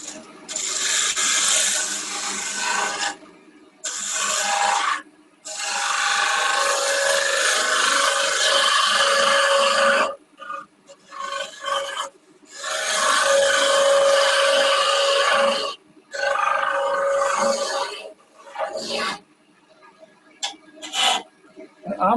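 A gouge cutting wood on a lathe during a woodturning session: long rasping, scraping passes of several seconds each, separated by short pauses, fairly loud and close, with no talk over it.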